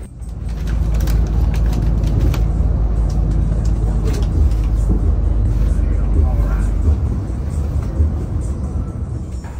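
A coach on the busy Pantura highway rumbles along and overtakes other vehicles, its engine drone loud and close, with road noise swelling and easing throughout.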